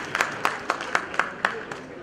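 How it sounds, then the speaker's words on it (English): Audience applause at a Rotary district event, heard as a small, fairly light rhythm of about eight evenly spaced claps at moderate distance rather than a full crowd ovation. "Let's give a big round of applause."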